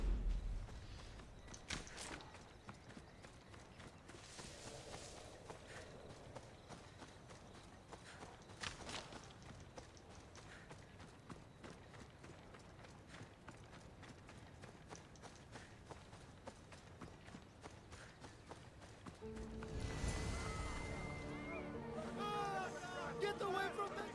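Horse hooves clip-clop in Assassin's Creed Odyssey at night, a quick running rhythm of muffled hoofbeats that stays faint and steady through most of the stretch, with a louder burst of game sound near the end.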